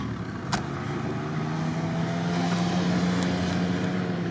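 A Jeep Cherokee drives off-road over sand, its engine a steady close drone with a low hum and rumble holding level throughout, with no voices.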